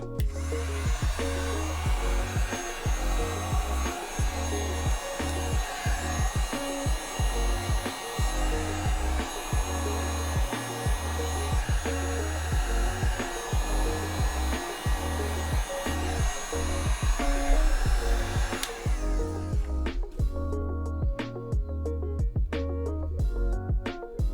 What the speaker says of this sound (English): I've got this Harbor Freight heat gun.